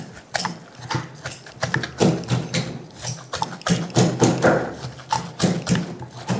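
Plantain is pounded with a mortar and pestle, producing loud, close, steady rhythmic thuds that repeat several times a second with little pause.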